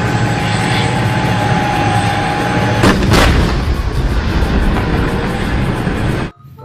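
A loud toy tank sound effect with booming cannon shots over a constant rumbling engine roar, two sharp blasts near the middle, cutting off abruptly at the end.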